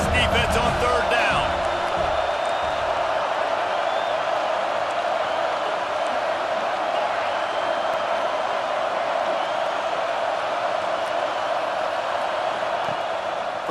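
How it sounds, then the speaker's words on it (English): A roaring stadium crowd in a college football video game, USC vs Iowa State, holds a loud, dense, sustained wall of noise on third down, with a commentator's voice briefly at the start. "Decibels rising as the crowd gets behind this defense on third down."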